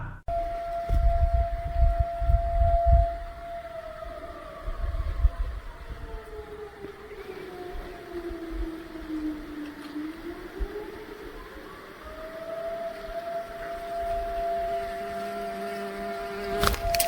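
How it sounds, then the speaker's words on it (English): An air raid siren wails across a forest, its long tone sweeping slowly down and then climbing back up, distant and echoing over a low rumbling background. "the stillness shattered by the wail of an air raid siren echoing through the trees"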